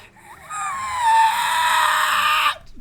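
A human voice imitates a shark's piercing scream like a whistling kettle: one sustained, high wavering shriek, loud and close, lasting about two seconds before cutting off sharply.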